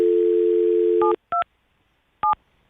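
A telephone dial tone plays steadily, then stops, and a few touch-tone keypad beeps follow as a number is dialed, loud and clean with silence between the tones.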